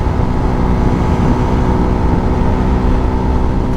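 A Husqvarna Svartpilen 401 motorcycle ridden at highway speed, about 80, into a headwind, heard as a loud, continuous roar of engine drone and wind rush, steady and close with no pauses.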